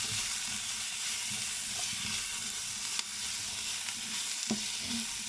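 Sliced courgettes sizzle steadily in a hot pan under a lid, a dense continuous frying hiss with faint occasional taps and stirring knocks, no talking.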